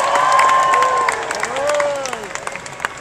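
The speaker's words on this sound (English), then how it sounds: "Let's have a nice round of applause for everybody here at Comic-Con." Crowd at San Diego Comic-Con cheering and applauding, loud whoops and shouts over clapping that fades toward the end, with scattered individual claps standing out.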